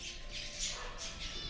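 Birds squawking in an aviary at a bird park, a steady overlapping chorus of harsh, scratchy calls at close range with no one talking.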